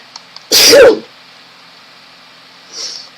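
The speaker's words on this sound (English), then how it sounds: "I'm going to sneeze" A single loud, close sneeze breaks a quiet indoor room, followed by a faint short sound a couple of seconds later.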